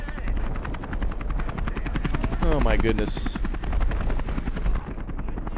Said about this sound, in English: we gotta figure out how to get rid of that chopper